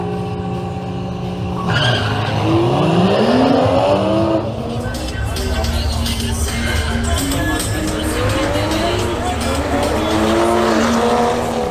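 A BMW M240i and a BMW M135i launch in a drag race: loud engines rev and climb through the gears with rising pitch, tyres squeal, and the roar carries on strongly throughout.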